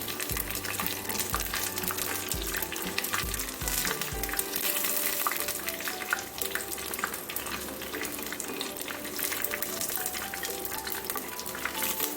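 Mushroom kebabs sizzle and fry steadily in a pan, a dense crackling hiss running the whole time, with scrapes and soft knocks as pieces are turned over.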